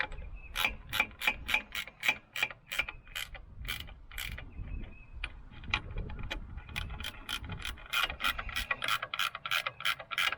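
Ratchet wrench tightening nuts on a homemade chainsaw scabbard for a Kubota and wood wagon, a close, rapid series of crisp clicking ratchet strokes in bursts, with a brief pause midway and no talking.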